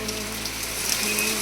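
Steady monsoon rain pours down in a dense, even hiss at a homestay in Sakleshpura, Karnataka, falling on nearby surfaces without pause.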